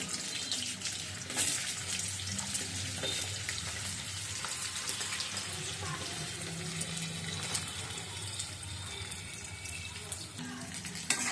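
Potatoes hit oil already seasoned with fenugreek seeds, giving a soft, steady frying sizzle with faint clinks and a trickle of water-like hiss, fairly quiet and continuous.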